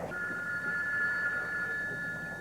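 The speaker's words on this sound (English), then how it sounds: "Come on, pick up the phone, Adams." A telephone rings alone in a tense police standoff, a steady sustained electronic tone running continuously at moderate level with no talk over it.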